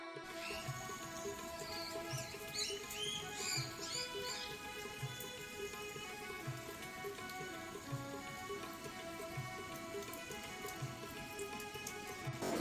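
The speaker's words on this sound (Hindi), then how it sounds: "3 दिन से लगातार बारिश ही चल रही है।" Steady rain falls with a dense, even patter that never lets up, accompanied by a faint continuous hum.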